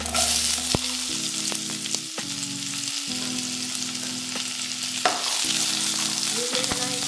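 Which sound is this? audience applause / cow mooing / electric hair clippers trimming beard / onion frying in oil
onion frying in oil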